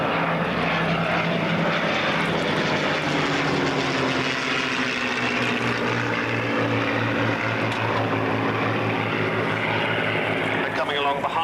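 A P-47 Thunderbolt propeller fighter flies at the 1992 Boscombe Down airshow, escorting a B-24 Liberator bomber. Its loud, steady piston-engine drone holds close and strong for the whole stretch, with a slight shift in pitch as it passes.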